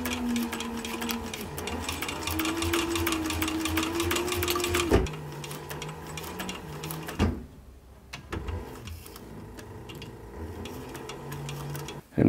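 Sewing machine stitching through a leather cap brim: a steady, close motor whir with rapid needle ticking runs, stops, and restarts in shorter bursts.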